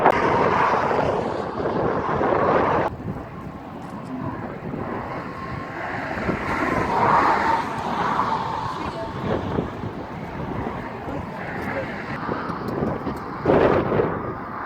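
Strong wind gusts outdoors near Hoover Dam, buffeting the microphone in rumbling, uneven bursts that rise and fall.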